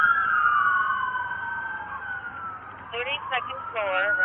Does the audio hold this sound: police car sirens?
yes